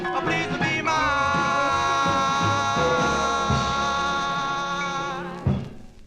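A 1952 doo-wop 45 playing from vinyl: a sustained vocal and band chord held for several seconds, fading slightly before a short closing hit near the end, with no talking over it.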